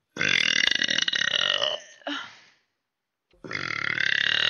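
A person lets out long, loud, rumbling burps, two drawn-out ones with a short pause between, heard up close with no talking.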